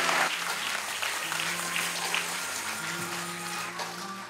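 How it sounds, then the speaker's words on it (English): A room full of people claps steadily for a few seconds, a dense wash of applause that holds level and then tapers slightly at the end. "Let's give her another round of applause for the Pinebow sisters."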